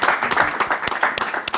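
A studio audience on a Kenyan talk show, the Chipukeezy Show, claps for a guest named Big Ted, with a burst of close, uneven applause running throughout and faint voices mixed in.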